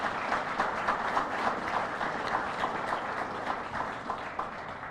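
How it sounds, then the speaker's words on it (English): A roomful of people at a university press event introducing NMSU's new baseball coach applauds his family: fairly quiet, steady, even clapping that holds for several seconds. "Please give them a big round of applause."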